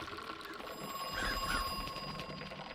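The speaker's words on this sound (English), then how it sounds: "Oh, wait, that phone was ringing." A telephone rings inside a survival horror video game, a faint, thin repeating ring heard twice in the middle of the stretch over a steady game ambience hum.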